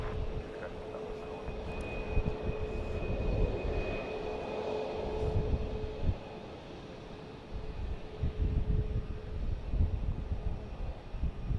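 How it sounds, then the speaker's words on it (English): A Delta Airbus A319 at Dallas Love Field gives off a continuous jet engine rumble with a faint steady whine, heard from a distance and holding fairly level throughout. "We've got Delta coming up on an Airbus A319"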